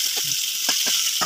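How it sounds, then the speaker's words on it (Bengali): Salted potatoes frying in oil in a pan make a continuous, close, bright hiss, with a few soft low bumps underneath. "আলুগুলোকে আমি দুবার ঢেকে দিয়েছিলাম, ঢেকে ভালো করে নাড়াচাড়া করে হালকা একটু ভেজেও নিলাম"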